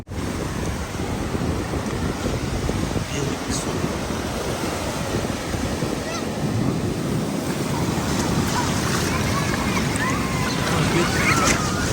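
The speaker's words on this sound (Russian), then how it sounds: "Знаете, волны какие, Тихий океан." Pacific Ocean surf breaks and rushes continuously on the shore, loud and close, with strong wind buffeting the microphone throughout; no voices stand out over the roar.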